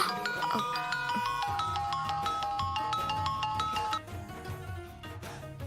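A phone rings during a call, a bright repeating melodic ringtone playing steadily for about four seconds before dropping in level and trailing off.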